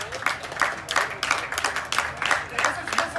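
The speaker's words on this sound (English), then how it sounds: "Give him a round of applause for Chris." An audience at an outdoor stock event claps in uneven bursts, the strong individual hand claps standing out close to the recorder, rising and falling over a few seconds.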